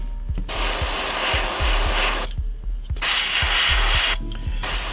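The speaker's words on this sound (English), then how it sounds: "I'm just spraying the end here because it's all just a little too bright" An airbrush sprays paint in close, steady hissing bursts with two short pauses, over a rhythmic mechanical ticking from the compressor underneath.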